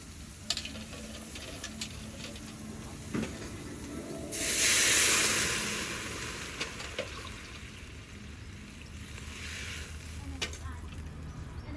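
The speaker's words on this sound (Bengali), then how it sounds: "আলু লঙ্কা ভাজা হয়ে গেছে এবার দিয়ে দেব পরিমাণ মতো জল আর বেগুন" Potatoes and green chillies fry in a pan with a steady low sizzle, swelling into a brief louder hiss partway through, with occasional utensil clicks and no talking.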